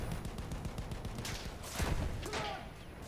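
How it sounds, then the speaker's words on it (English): Artillery and gunfire in the World War I shooter game Battlefield 1, a dense run of muffled booms and crackling shots with a louder blast swelling near the middle, no talk over it. "I didn't even see that artillery gun."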